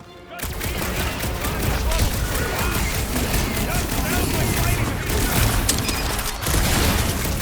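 Sustained heavy gunfire in Marvel's Guardians of the Galaxy, a loud unbroken barrage of shots and booms that starts abruptly after a brief quiet moment and runs on with only a short dip near the end.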